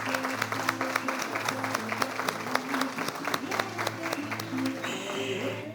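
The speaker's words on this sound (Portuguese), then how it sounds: "Vem para cá, Erison, que recebe as nossas palmas." An audience at a retail summit panel applauds, steady clapping from many hands that holds throughout.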